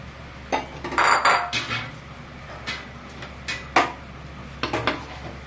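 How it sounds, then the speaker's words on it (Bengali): A spoon scrapes and clinks against a pot while ground spices are stirred into tamarind chutney, in irregular knocks and scrapes over a low, steady hum. "ভালো করে মিশিয়ে নেব।"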